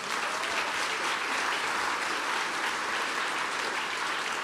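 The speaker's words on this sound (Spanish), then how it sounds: "Dale un fuerte aplauso al Señor." A church congregation applauds steadily and loudly, a dense wash of many hands clapping together without letup for the whole few seconds.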